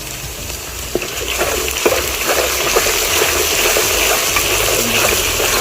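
Ginger garlic paste frying with browned onions in a pan for Muslim-style ghee rice, a loud continuous sizzle and crackle with occasional spoon stirs, no voices.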